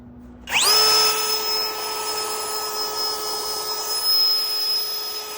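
A Seese cordless leaf blower vacuuming up leaves from a corner spins up with a rising whine, then holds a loud, steady, high-pitched motor drone close to the microphone, with no voices.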